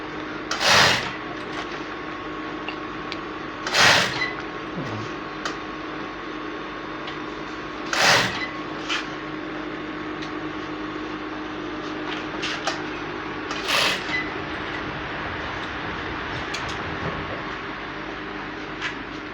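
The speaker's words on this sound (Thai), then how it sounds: "นั่งเย็บผ้านะครับ" Sewing machine stitching trousers, a steady mechanical running hum with several louder clunks spaced a few seconds apart, close and continuous.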